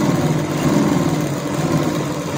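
Electric sewing machine running steadily while stitching around the pointed neckline of a kurti, a continuous close motor hum with no pauses throughout.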